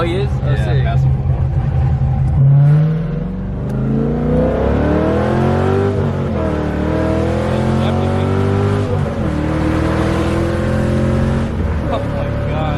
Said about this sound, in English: Can never go wrong with a V8, bro. This thing sounds amazing.